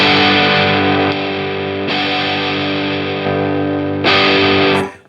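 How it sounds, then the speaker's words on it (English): A loud electric guitar chord rings out through a distortion pedal, sustained and smooth, restruck a couple of times before cutting off. "So it's a much more open distortion, bit smoother and a lot louder."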